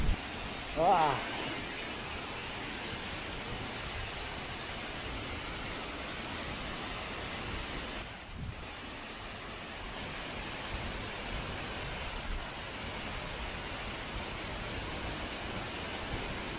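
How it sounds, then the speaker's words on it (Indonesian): Taloyon waterfall in dense forest roaring as a steady, broad wash of falling water that fills the whole stretch, with a brief burst of sound near the start and a short dip midway. "Jadi seperti inilah penampakan dari air terjun Taloyon"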